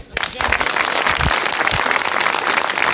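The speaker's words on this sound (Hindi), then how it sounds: "ताली बजाइए।" An audience at a live Hindi talk bursts into dense, sustained applause that fills the whole stretch, loud and close.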